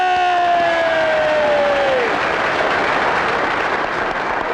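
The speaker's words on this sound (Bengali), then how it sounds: "হাততালি!" A crowd at a political election rally bursts into sustained applause and cheering, a dense steady roar throughout, with a brief falling whistle-like tone at the start.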